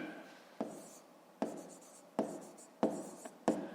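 Chalk or marker writing on a school board during a fifth-grade maths lesson: five distinct strokes arrive at intervals of roughly a second, each a sharp scratch that trails off, close and fairly quiet with no talk.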